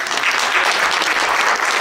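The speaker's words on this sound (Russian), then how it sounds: "Аплодисменты." Audience applause at a museum gathering, thick continuous clapping from many hands, loud and even throughout with no pauses.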